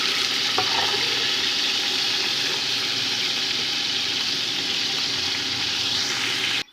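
Cooked beef meat sizzles loudly in a pot with oil while being stirred for Degi beef yakhni pulao, a steady close frying hiss with no talk that cuts off at the end.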